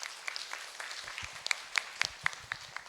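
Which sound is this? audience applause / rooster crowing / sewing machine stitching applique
audience applause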